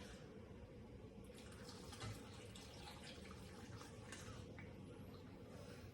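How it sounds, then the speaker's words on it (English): Water poured into a blender for enchilada sauce with chili pods and garlic makes a soft, steady trickling splash at low level, running continuously for several seconds in a kitchen. "then I pour the water in there"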